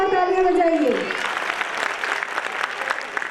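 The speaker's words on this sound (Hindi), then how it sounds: "इनकी हिम्मत अफजाई के लिए जोरदार तालियां बजाइए।" Applause rises from the audience at a school annual gathering for Urdu primary school students, starting just as a voice finishes speaking and continuing as a steady, moderately loud patter of many hands.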